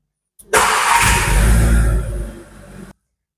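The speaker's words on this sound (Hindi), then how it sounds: "चलिए अब कार स्टार्ट करते हैं।" A 2024 Skoda Kushaq 1.5 TSI Style with DSG gearbox fires up: a starter crank leads into a loud rev flare, which then settles into a quieter idle before cutting off, heard close with no talking.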